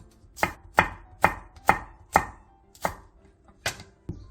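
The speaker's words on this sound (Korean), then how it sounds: "양파 4분의 1개를 두툼하게 채 썰고 대파 3분의 1개, 청양고추 2개는 길게 어슷썰게 해주세요." A knife chops a quarter onion into thick strips with green onion and Cheongyang chili peppers on a cutting board, eight crisp, evenly spaced strokes, close and alone.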